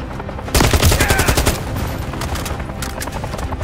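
Automatic gunfire from a gun in Call of Duty: Modern Warfare 3 erupts after a brief quiet moment and continues as a dense, rapid, loud stream of shots to the end.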